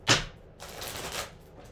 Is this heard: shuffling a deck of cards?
yes